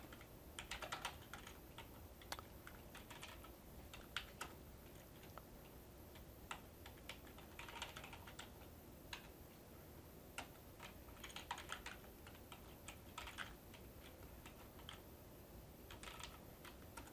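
Steady clicking of a computer keyboard as code is typed, in irregular bursts of close, faint keystrokes with short pauses and no talk.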